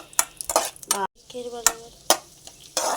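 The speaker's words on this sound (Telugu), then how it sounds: "నెయ్యి వేసుకొని జీడిపప్పు కిస్మిస్ ఫ్రై చేసుకున్నాం" Cashews and raisins fry in ghee while a spoon stirs them in the pan, making sharp scraping strokes and clinks over a soft sizzle, close and loud, with one brief silent gap.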